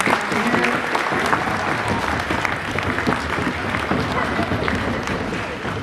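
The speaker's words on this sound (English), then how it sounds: "Let's give these guys another round of applause" A school assembly audience gives a sustained round of applause, dense steady clapping from a large crowd that fills the whole stretch, with some cheering mixed in.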